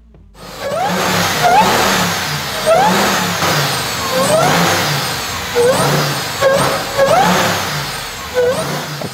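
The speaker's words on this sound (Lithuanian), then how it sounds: "Ir netrukus išgirsime, kaip pasikeitė variklio garsas." A RAM TRX's 6.2-litre supercharged Hellcat V8 runs with a steady, loud roar, while a rising supercharger whine chirps up repeatedly every second or so across about nine seconds; no one speaks.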